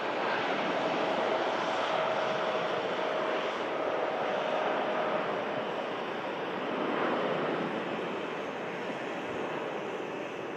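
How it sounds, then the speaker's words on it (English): A TUI Boeing 787 Dreamliner departs for Montego Bay, its jet engines a broad, steady roar at a distance that swells and eases slightly, with wind noise and no speech. "TUI Dreamliner on the way out to Montego Bay."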